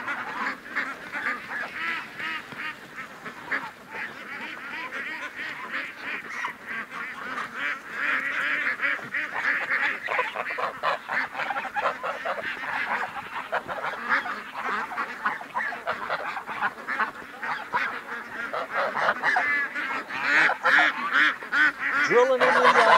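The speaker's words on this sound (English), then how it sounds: "I can't believe it, the geese are walking right beside Doug and I." A flock of geese honks continuously and close by at a lake, dense overlapping calls building louder toward the end, with some talking mixed in.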